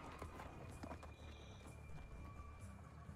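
Video game horse hooves clop in a quick, steady trot over a continuous background rumble, with a few brighter clicks and tones mixed in, in Mortal Kombat 11.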